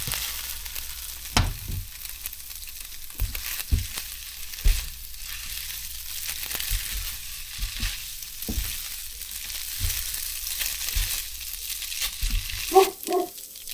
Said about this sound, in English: this is buttery peppers and onion Parmesan stir fry.